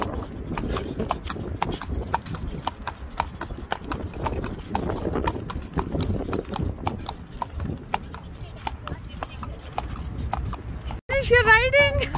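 Horse hooves clip-clop in a steady rhythm, close and loud, as a horse carriage rolls through Khalifa Park in Abu Dhabi. A person talks over the hoofbeats and a brief whinny comes near the end.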